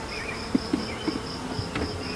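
A steady honeybee buzz hums through the whole stretch as a caught swarm is handled in a hive, with a few soft knocks and taps scattered underneath.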